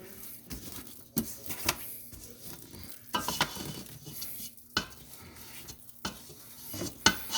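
A spatula scrapes icing down the sides and bottom of a cake mixing bowl in a run of irregular scraping and knocking strokes, each one close and fairly quiet.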